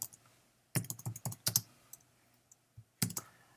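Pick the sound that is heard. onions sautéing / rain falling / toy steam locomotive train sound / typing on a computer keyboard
typing on a computer keyboard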